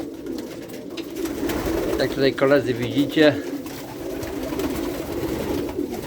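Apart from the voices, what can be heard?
pigeons cooing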